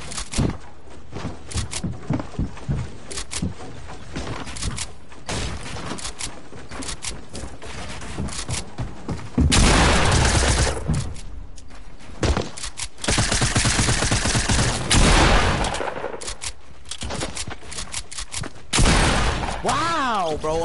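Rapid shotgun blasts in a first-person shooter game, a double pump, ring out loud and close amid dense overlapping gunfire and game effects, with bursts clustering in quick succession.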